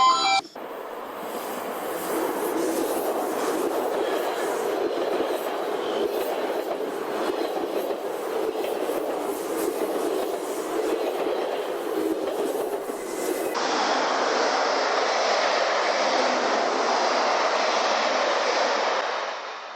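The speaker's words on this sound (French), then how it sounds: "Ce que vous entendez derrière, c'est le bruit du train qui passe." A train passes close by in the Netherlands. Its loud, steady rumble and rattle continue throughout, with the sound shifting partway as the cars roll past, and there are no voices.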